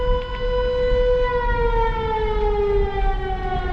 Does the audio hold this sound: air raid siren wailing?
yes